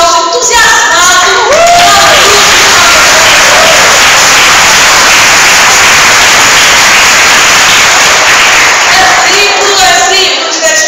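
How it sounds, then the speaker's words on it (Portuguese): Loud, distorted applause from an audience cheering young poets of Camaquã, a dense wash of clapping and crowd noise sustained for several seconds, with a voice speaking briefly at the start and end. "Eu sugiro um aplauso entusiasmado."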